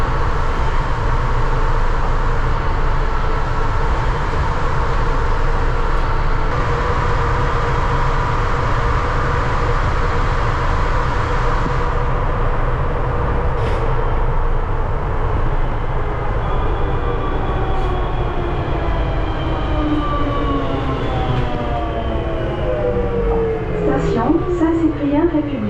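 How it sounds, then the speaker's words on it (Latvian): A driverless, fully automated train runs with a steady, loud rumble heard from the front seat. Wheel squeals rise near the end as it rounds a curve, and people talk over the noise. "Vilciens bez vadītāja sēž pašā priekšā."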